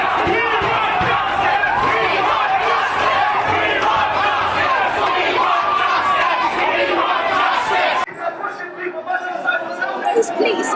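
A dense, loud crowd of angry protesters shouts continuously inside Kensington Town Hall, voices overlapping in a roar for about eight seconds before dropping away to scattered, quieter shouts and chatter.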